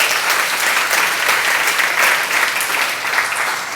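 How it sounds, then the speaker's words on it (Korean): Steady, dense applause from a seminar audience, loud and continuous throughout with no talk over it. "박수."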